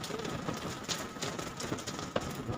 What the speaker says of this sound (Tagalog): Talagang maulan.